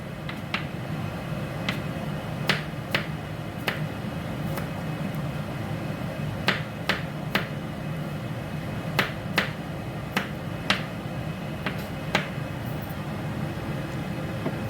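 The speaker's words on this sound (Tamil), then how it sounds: "இதுக்கு மிளகா சேப்பில் வெட்டுறேன்" Knife chopping chillies on a cutting board in a home kitchen, a series of sharp, irregular clicks and taps spaced roughly every half second to a second against a low background hum.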